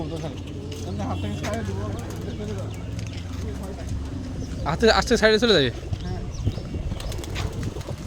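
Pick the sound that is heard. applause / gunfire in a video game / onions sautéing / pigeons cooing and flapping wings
pigeons cooing and flapping wings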